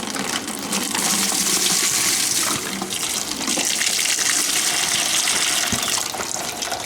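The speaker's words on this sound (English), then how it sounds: "I need to pull my radiator cap off so it'll drain." Coolant draining from a Yamaha Banshee radiator, a steady loud gushing pour of liquid running without pause, close up, with no talking.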